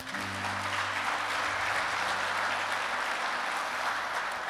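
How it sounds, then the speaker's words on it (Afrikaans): A church congregation claps for a woman named Annika, sustained, even applause from many hands filling the room, steady and fairly loud throughout. "Kom sê gou vir Annika 'n lekker hande klap"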